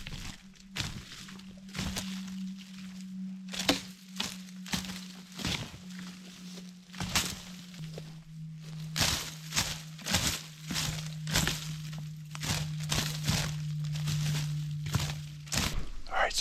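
Brush is raked in the woods to imitate an elk on a public-land Colorado archery hunt, giving repeated crackling, thumping sweeps in irregular bursts, with a steady low tone underneath.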